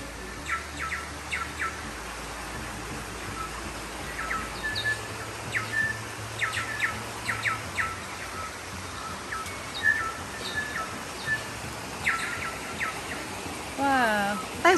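Bellbirds call repeatedly from the bush along a walk to Washpen Falls, with bright, ringing chirps and whistles scattered throughout, fairly near, over a steady background hum.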